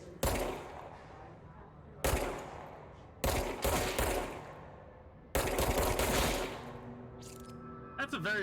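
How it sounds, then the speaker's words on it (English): Violent explosions in the video game Control, four heavy blasts in a row, each a loud sharp crack trailing into a long rumbling decay, the last followed by ringing metallic debris. "That's a very violent explosion."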